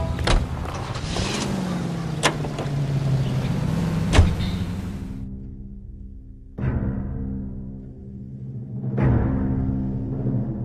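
A car in the video game L.A. Noire, engine humming steadily as it drives, with sharp clicks and thuds over it, then the engine note stopping and restarting in short bursts toward the end.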